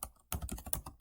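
Computer keyboard typing during a software layout setup, with a brief pause followed by a run of close, crisp key clicks at an uneven rhythm.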